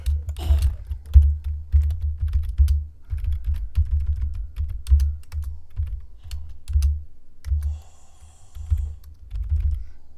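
Steady typing on a computer keyboard while entering a Minecraft mod name, with quick, uneven runs of close, crisp key clicks and short pauses over a low background hum. No one speaks.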